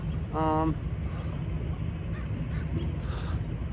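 Crows caw in a short burst of harsh calls, one loud nearby caw followed by fainter calls, over a low background hum.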